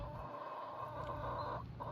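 Chickens cluck softly and steadily over low background noise, a close, continuous murmur of fowl.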